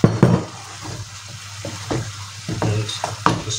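Shrimps and vegetables fry in a pan while being stirred, a steady sizzle broken by repeated scraping and clinking of the utensil against the pan, close and fairly loud.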